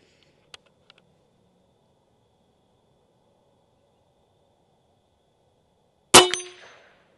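An airgun pellet from a Benjamin Bulldog .357 strikes a distant steel swinger target with a single sharp metallic clang that rings out briefly after near silence and a few faint clicks.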